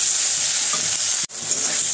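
Potatoes and onions fry in a pan with a steady, close sizzling hiss that drops out for an instant midway before resuming.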